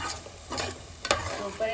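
Chole masala gets stirred in a pan over a low fry sizzle, with a few distinct spoon scrapes and knocks, close up and fairly quiet, no voices.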